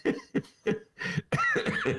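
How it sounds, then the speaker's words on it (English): A man coughs repeatedly at close range, several harsh bursts in quick succession with short gaps, the last ones running together into a longer rough fit. "Just coughing, not COVID."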